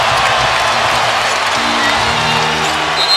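Basketball arena crowd roaring after a Kobe Bryant pull-up jumper in a 2011 Lakers–Celtics game, a loud, steady wash of cheering and applause that fills the whole moment.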